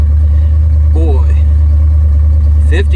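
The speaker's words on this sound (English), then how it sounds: "she's sitting here running and idling" A 1966 Pontiac Grand Prix, abandoned for eight years, idles with a steady, loud low rumble that holds constant throughout, while brief bits of voice sit over the engine drone.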